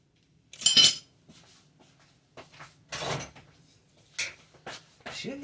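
Metal spoon scraping and clinking in a small pot while mixing chin-chin dough with sugar and salt, a few separate bursts of stirring with quiet gaps between, close by.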